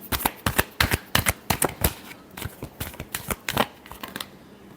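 Tarot cards are shuffled by hand in a quick run of crisp riffling bursts, about a dozen close, dry flutters in an uneven rhythm with short pauses, and no talking.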